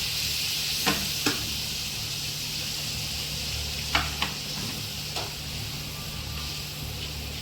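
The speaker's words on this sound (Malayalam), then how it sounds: "ആവശ്യത്തിനുള്ള വിനാഗിരി ഒഴിച്ച് നല്ല അടിപൊളിയായിട്ട് മിക്സ് ചെയ്തെടുക്കണം" Prawn pickle mixture sizzling hard in a hot pan as vinegar goes in, a dense, steady hiss with a few brief sharper spatters and stirring scrapes, no voices.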